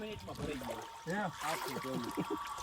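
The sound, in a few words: water flowing from a tank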